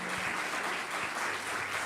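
A church congregation claps together in a sustained, even burst of applause at moderate distance, with no speech over it.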